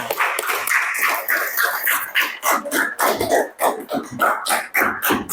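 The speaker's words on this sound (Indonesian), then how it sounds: "Tepuk tangan buat kita semuanya." Children in a primary-school Islamic religious education class give a round of group applause, a dense, steady patter of many hands clapping close by for several seconds.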